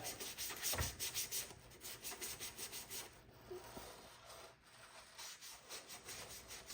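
Sandpaper rubs back and forth over a white-painted model grain wagon in steady, rhythmic strokes, close and fairly quiet with no voices.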